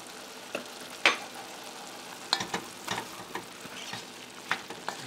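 Sizzling pork and sausage chili frying in a pot while chili powder is stirred through, with soft spoon scrapes and clatters over a steady hiss.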